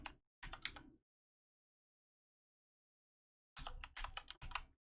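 Quick clicks of a computer keyboard come in two brief bursts, one at the start and one near the end, with silence between them.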